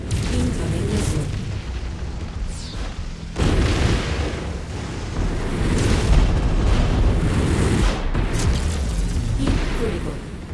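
Missile explosions in the MechWarrior 5: Mercenaries video game, heavy booming blasts rumbling almost without pause, with several sharp impacts standing out and faint game voice alerts underneath.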